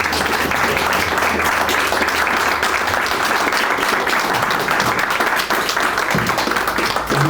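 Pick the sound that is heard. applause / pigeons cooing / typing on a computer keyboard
applause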